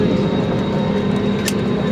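Airplane cabin just after landing in Goa, a loud, steady engine and air rumble droning without pause, with possible faint voices underneath.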